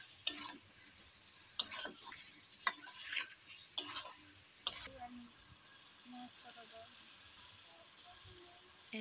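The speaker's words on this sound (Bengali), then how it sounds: "এবার আমরা গরম মশলা গুঁড়ো হাফ চা চামচ মতো দিয়ে আবারও মাংসটাকে ভালোভাবে কষাতে থাকবো" Chicken curry meat is stir-fried in a pan, with sharp clacks of a spatula against the pan and a low sizzle in between. A voice talks over parts of it, and the pan goes quieter toward the end.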